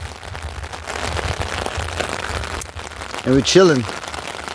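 Steady rain patters on surfaces around a car camp in Anza-Borrego, a constant close hiss running under relaxed conversation, with a brief voice near the end.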